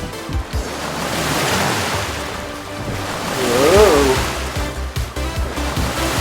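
Ocean surf rolling and crashing in a continuous loud wash, with a brief voice-like tone and sharp clicks on top partway through.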